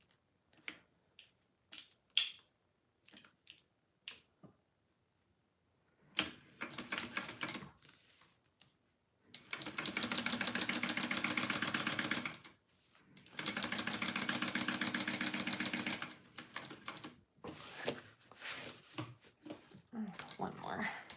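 A sewing machine stitches around a drawn rectangle on a crossbody bag, running in two long steady bursts separated by a short pause, with scattered clicks and handling noises before and after.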